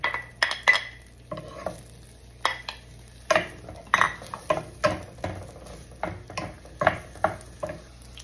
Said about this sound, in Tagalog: Meron na po yung olive oil at syempre uunahin po natin lutuin ng sausage.